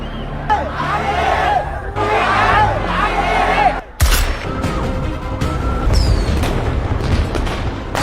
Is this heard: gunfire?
yes